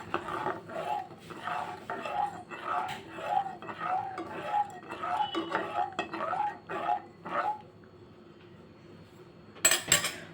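Chopped ingredients and salt being mixed in a bowl with a spoon, rhythmic scraping and clinking strokes close by for several seconds, then a pause and a sharp knock at the end.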